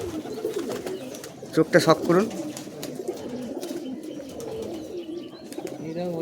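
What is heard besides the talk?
Giribaz pigeons cooing in a loft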